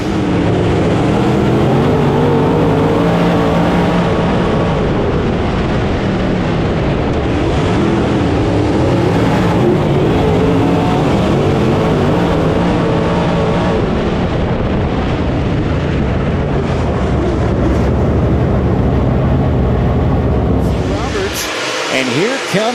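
A pack of race cars roars back up to speed after a restart under green at Sugar Creek, a dense, continuous wall of engine noise from the field with a race announcer talking over it.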